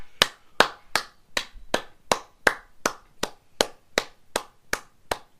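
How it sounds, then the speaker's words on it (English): A single pair of hands claps slowly and evenly, about a dozen sharp, close claps in a steady rhythm with no crowd joining in, marking an honorary Dragon Award at an end-of-year awards show. "You got to clap for Tony."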